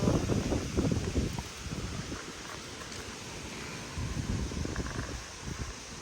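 Strong wind gusts roar and rustle through foliage, with heavy low buffeting against the microphone rising and easing in waves.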